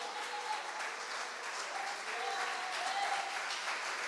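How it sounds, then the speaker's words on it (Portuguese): A church congregation applauds steadily during a Brazilian evangelical overnight worship service, a dense, even wash of clapping that holds for several seconds at moderate distance, with faint voices mixed in. "aplauda, glorifique, exalta e engrandeça o nome de Jesus"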